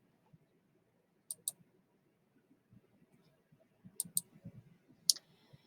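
Computer mouse clicks while navigating a chemistry simulation, a few sharp close clicks in pairs and clusters over soft low background murmur.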